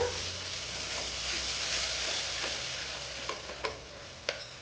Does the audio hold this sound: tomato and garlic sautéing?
yes